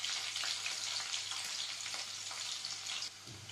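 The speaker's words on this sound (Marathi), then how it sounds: "त्यानंतर घालूया लसूण, लसूण चांगला ब्राऊन झाला पाहिजे." Garlic sizzles steadily as it fries to brown in a pan for shemu and methi bhaji, a dense, continuous crackle heard up close with no voices, easing slightly toward the end.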